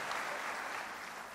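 Brief, soft wash of congregational applause for the Lord during an Indonesian church sermon, a blurred, distant clapping texture with no distinct hand strikes.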